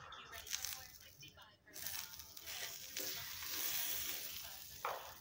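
Butter dropped into a hot skillet for grilled cheese, giving a close, hissing sizzle that carries on steadily with faint scraping, cooked in a prison cell.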